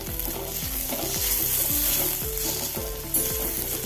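Chopped onion frying with ginger garlic paste in a pan, stirred steadily, gives a continuous loud sizzle with spoon scrapes, and music plays faintly underneath.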